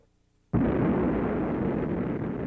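Fat Man atomic bomb explosion, a sudden loud blast after a brief quiet moment, then a sustained heavy roar and rumble that holds steady without fading.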